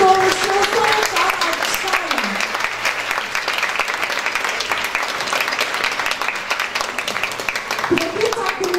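Sustained applause fills a hall at a hospital's 25th anniversary ceremony, a crowd clapping steadily at moderate loudness while an announcer's voice carries over it.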